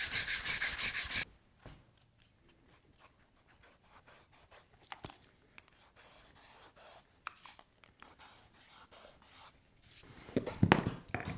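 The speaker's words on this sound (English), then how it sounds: "This is 220 grit sandpaper. I like to sand the edges with." Leather dog collar edges sanded by hand with 220 grit sandpaper, short scratchy rubbing strokes close up in bursts between quiet pauses, with a louder rasp at the start and end.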